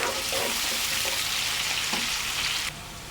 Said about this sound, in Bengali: পেঁয়াজটা আমি ভাজা ভাজা করব